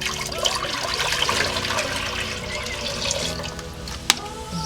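Water streams steadily into a sufuria cooking pot, a continuous splashing pour heard up close with a small metallic clink near the end.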